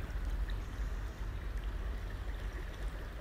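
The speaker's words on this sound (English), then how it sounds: "Try to get the sound of water, always sounds relaxing." River water with a strong current rushes steadily through a park, a soft, even, continuous wash of flowing water close by.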